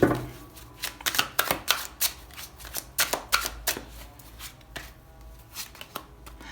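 Tarot cards shuffled and laid out by hand, a run of crisp riffling flicks and soft slaps in quick irregular bursts, close and fairly quiet with no talk.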